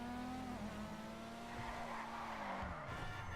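A car in GTA 5 skids and spins out, its tyres squealing in a long wavering screech over a steady engine drone, close and continuous throughout.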